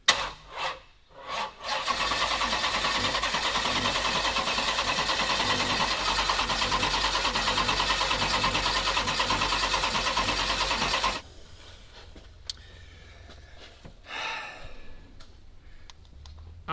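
A Dodge Demon engine swapped into a truck cranks over with a steady, loud, fast starter whir that goes on for about nine seconds without firing, then cuts out, leaving quiet shop sounds.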